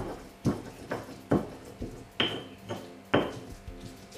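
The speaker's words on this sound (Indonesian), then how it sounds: "Jadi ini bumbunya saya ulek aja." A stone pestle pounds spices in a stone mortar (ulek) while preparing spicy semur jengkol, about eight sharp, evenly spaced knocks with a gritty scrape after each, close and alone.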